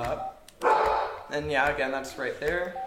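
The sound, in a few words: dog barking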